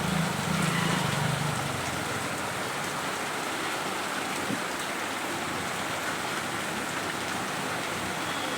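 Steady rain pours down during the monsoon season, a dense continuous hiss of drops striking surfaces with no gaps, evenly loud throughout.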